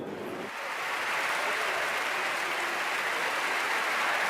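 Audience applause after a children's opera performance, dense clapping that swells within the first second and then holds as a loud, steady roar.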